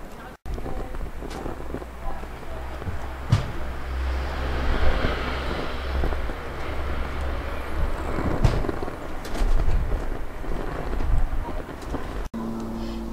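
Strong wind buffets an outdoor bushcraft cooking spot, a continuous rushing roar with gusty swells and microphone rumble, loud and close throughout with a faint voice now and then.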